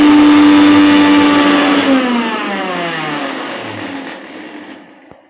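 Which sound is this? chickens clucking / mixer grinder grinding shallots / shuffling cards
mixer grinder grinding shallots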